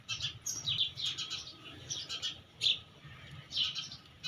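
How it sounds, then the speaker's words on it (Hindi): House sparrows chirp busily at a home water dish and feed spot, bright overlapping tweets arriving in quick bursts, close and lively, with no voices. "तो ये माशाल्लाह पूरा दिन इस तरह से चहचहाते रहते हैं।"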